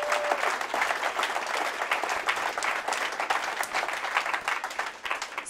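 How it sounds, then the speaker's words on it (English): A convention audience at DragonCon claps enthusiastically, a dense, steady wash of applause filling the room at close range without pause. "Please give them a round of applause."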